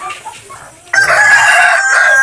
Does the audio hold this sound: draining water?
no